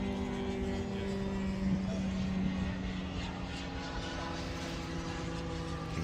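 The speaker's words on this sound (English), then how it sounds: "so now the tow plane is going to just come down and land." RC tow plane flying at Joe Nall 2023, a large radio-control model aircraft event, giving a steady droning engine hum with sustained tonal whine, moderately distant and continuous throughout.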